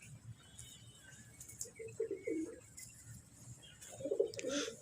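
Pigeons coo on a rooftop in short, soft bursts over a steady outdoor murmur, with one cooing phrase near the middle and another toward the end, slightly distant.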